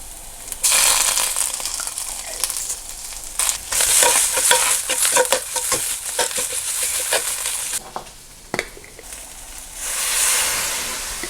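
Onions and tomato paste sizzle loudly in a hot pan, a broad steady hiss broken by scraping stirs and clattering utensil strokes, close up with no voices.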